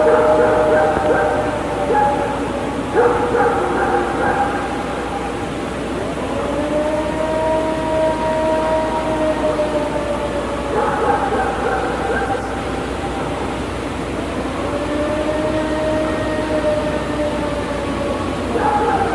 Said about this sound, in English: was it the Ohio howl? Did it sound like this?